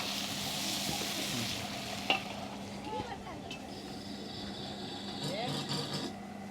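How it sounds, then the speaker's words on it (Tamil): Garlic sautés in a pan for a Nellai wedding-style kara kuzhambu, giving a steady frying sizzle with occasional scrapes and clinks of a stirring spoon against the pan. "பூண்டு காரக்குழம்புக்கு வதக்கிறதுக்கு."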